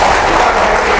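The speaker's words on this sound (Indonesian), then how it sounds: "Tepuk tangan dulu untuk Banten." A crowd at a labour rally claps for Banten in a loud, continuous burst of dense applause, heard alone without talk.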